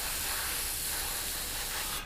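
Continuous loud hiss of spray paint being applied in a generous coat to a Revell 1/72 scale Lancaster model kit, steady and close for about two seconds before cutting off.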